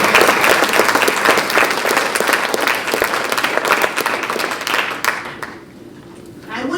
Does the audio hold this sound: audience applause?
yes